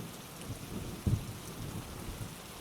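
Steady rain falls with a soft, continuous patter, and a low thunder rumble swells briefly near the middle before fading back into the downpour. No voices.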